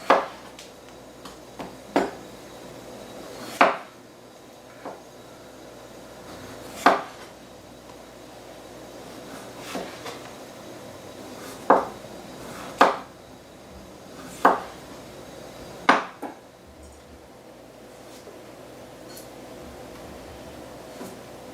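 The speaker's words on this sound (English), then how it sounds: "I'm going to take my knife and just slice it just enough to take the skin off" A kitchen knife slices the skin off a potato, giving sharp, irregular knocks of the blade meeting the cutting board, spaced a second or more apart, close and crisp over a quiet room hum.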